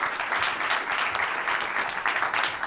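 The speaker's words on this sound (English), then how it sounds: "let's give these guys a huge round of applause." Audience at a fintech pitch competition event giving a round of applause, loud, dense clapping throughout with no talk over it.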